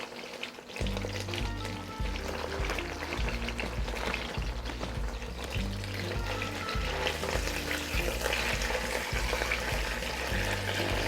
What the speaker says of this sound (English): Always put your chicken in the first time, skin side down.